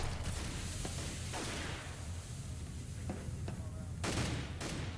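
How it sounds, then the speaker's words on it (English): Grenades going off during a CS:GO pro league LAN match, a dense burst of blasts and gunfire layered over constant game noise, with sharp explosive hits near the start and end. "Some good nades going off here."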